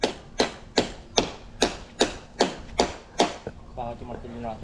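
Hammer strikes on wood, about eight sharp, evenly spaced blows in quick succession, loud and close, followed by a short burst of talking at the end.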